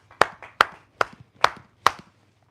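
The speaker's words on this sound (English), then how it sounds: "I think both of them deserve a quick round of applause." Five sharp, evenly spaced claps ring out alone, loud and close, with quiet gaps between them, like a few people giving a brief round of applause at a fishing competition prize-giving.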